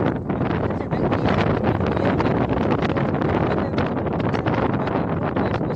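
Strong wind blows continuously near a well filled with dam water, a loud, dense roar buffeting the microphone with no pauses and no speech.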